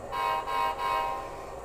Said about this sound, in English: we're going to blow our whistle, our air horn,